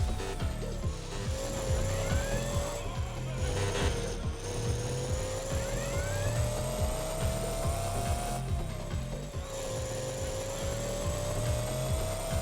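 Several small radio-controlled cars race around a track, their electric motors giving off a steady high whine that rises and falls with each pass, mixed with scraping and rumbling wheel noise over continuous background hubbub.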